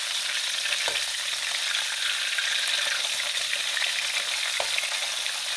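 Shrimp frying in a small amount of oil for a buttermilk shrimp dish, giving a steady, bright sizzle throughout with two brief clicks of stirring or turning, no talking.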